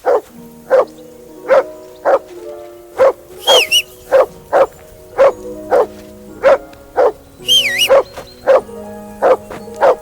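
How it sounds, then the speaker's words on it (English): A dog in Kingdom Come Deliverance 2 barks loud and close in a steady run of sharp single barks, about one per second, with a couple of brief whines mixed in. "That barking was a pain in the ass."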